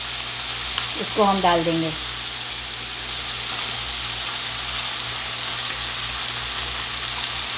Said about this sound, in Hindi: मसाले को पका लेंगे और चिकन को टेंडर होने देंगे।